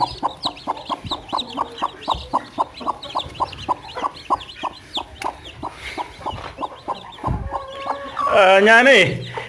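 A native country hen clucks in a steady, repeated rhythm close by, with higher peeps from newly hatched chicks mixed in and a louder flurry of squawking near the end.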